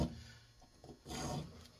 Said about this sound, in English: So I'm kind of using the saw blade like a file.